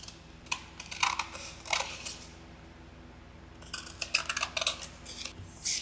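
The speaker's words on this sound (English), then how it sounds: "let's go ahead and trim this out. I'm going to get my larger scissors." Sharp scissors cut through a paper card in quick bursts of crisp snips close by, with a short pause midway and no talking.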